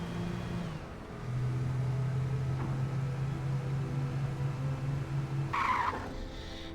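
Car drifting with tires skidding in the video game Alan Wake: a steady engine drone runs throughout under a sustained tire screech, ending in a loud, sharp squeal near the end.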